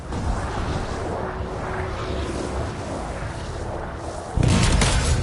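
Explosion in the video game Anthem: a continuous loud rumbling roar with low boom and crackling throughout, surging suddenly louder near the end, with no talk over it.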